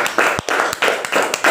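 Classroom applause from a group of students, a short burst of quick, uneven hand clapping, close and fairly loud.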